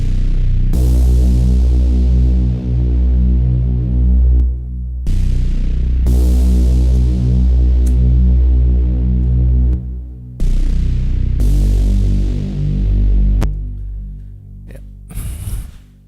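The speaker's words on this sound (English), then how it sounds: "This is just a basic sub." A basic sub bass synth patch from Massive plays a few long sustained deep notes, each swelling and fading, with brief gaps between them and a short higher blip near the end, no voices.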